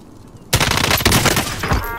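A sudden, loud burst of rapid automatic gunfire erupts in the Warzone video game after a moment of quiet, with dense cracking shots running to the end.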